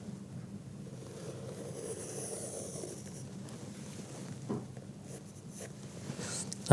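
A pencil scratching steadily as it traces the outline of a foot on paper for a bespoke shoe last, soft close-up strokes with a few sharper scrapes and no talking.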